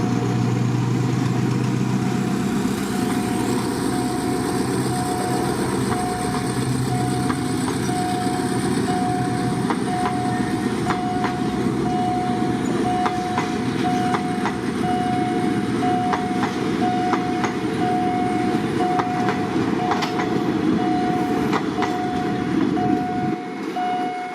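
A Thai State Railway train rumbles past a road crossing steadily and loudly for a long stretch, with a sustained engine drone, rattling wheels and clicks from the rails.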